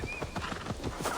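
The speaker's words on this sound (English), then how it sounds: "Oh, horsey!" A horse gallops up in Assassin's Creed Valhalla, with quick, close hoof clip-clops over roughly a second and a faint whinny near the end.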